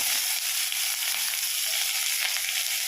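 Onions fry in a pan for an egg sandwich filling, a dense, even, close sizzling hiss that holds steady throughout with no pauses.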